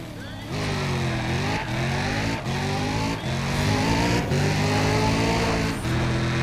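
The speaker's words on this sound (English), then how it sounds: "clutch shifting's good enough, it makes this thing sound like a sequential" Car engine in Need for Speed ProStreet, shifted with the clutch: revs climb, then drop sharply at each of about six quick gear changes, loud and close, with a continuous engine drone throughout.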